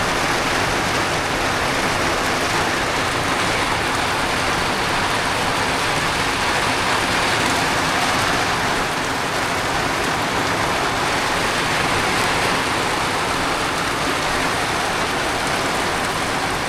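Heavy rain pouring down in a village, a steady, dense roar of drops striking surfaces, loud and unbroken throughout with no voices.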